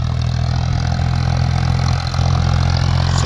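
Farmtrac 45 tractor engine straining to haul a heavily loaded trolley uphill, a loud, steady, low diesel drone that holds without a break throughout.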